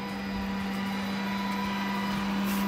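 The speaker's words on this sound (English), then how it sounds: "If you hear the printer kicking in the background" A sign printer runs in the background with a steady, droning hum and a constant tone, continuous and even throughout with no talking.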